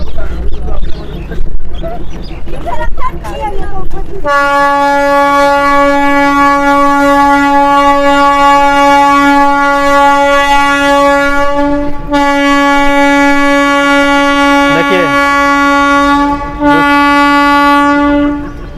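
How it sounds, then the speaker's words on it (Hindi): A train passes on the Supaul–Galgalia railway line near Araria, sounding a loud, sustained horn close by that holds for many seconds, briefly breaks and returns, over a steady rumble of the rail cars. "चलिए ट्रेन को जाने दीजिए"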